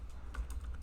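A pip install command typed on a computer keyboard: a quick run of soft, close key taps, faint and with no talk.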